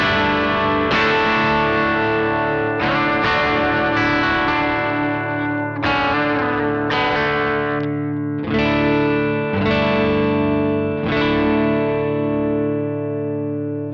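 Distorted electric guitar chords through a Boss OD-3 overdrive pedal ring out one after another, each struck and left to sustain with a gritty, overdriven tone; no talking.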